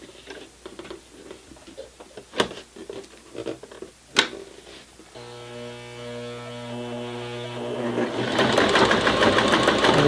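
A sewing machine stitching through 16 layers of thick denim, with a few sharp clicks and thumps before a steady, loud mechanical whir with a humming drone that builds and continues to the end.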